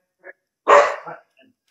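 A white dog gives one loud, close bark, preceded by a brief faint yip, in an indoor setting.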